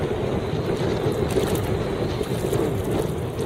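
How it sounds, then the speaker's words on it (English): Heavy wind roars steadily around a kayak out on open water during a fishing trip, a dense, unbroken rush of gusts and mic buffeting with faint water beneath and no voices. "Fishing out of a kayak in heavy wind."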